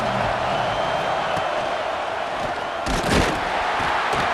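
A stadium crowd at a college football game in a video game, a loud steady roar of many voices with a brief swell of cheering and an impact near the end.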